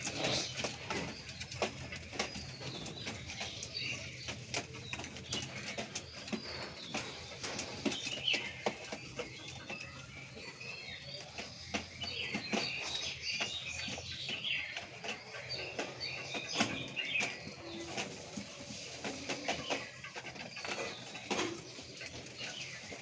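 Pigeons in a coop coo softly and continuously, with occasional wing flutters and shuffling scattered throughout at close range.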